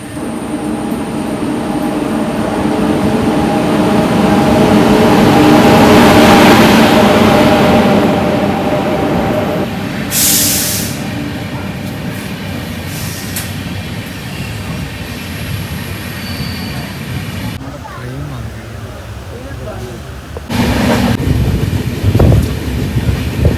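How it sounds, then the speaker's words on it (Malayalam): A train rumbles loudly as it draws in. The roar swells, then settles into clanking and screeching with a hiss of wind across the microphone. "നമ്മുടെ ട്രെയിൻ ഇപ്പോൾ വരും."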